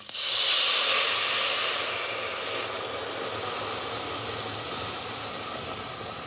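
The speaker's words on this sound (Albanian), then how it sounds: "Pas t'i dham një skuqje dhe perimeve, ujë të nxehtë" A loud burst of hissing steam erupts as hot water hits a hot pot of fried vegetables, then eases into a steadier, softer sizzle.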